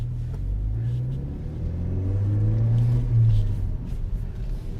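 A Ford Focus ST car driving, its engine giving a loud steady low rumble that swells slightly as it revs, heard from inside the cabin with a voice faintly underneath.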